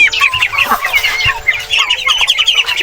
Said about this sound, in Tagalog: Meron na pala tayong native na manok na naglilimlim.